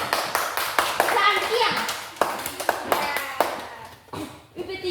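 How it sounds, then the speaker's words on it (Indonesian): Children clapping for a girl named Mutia in a Qur'an teaching class, a burst of claps with lively kids' voices over it, close by and moderately loud, then fading near the end. "Nah, oke, tepuk tangan untuk Mutia."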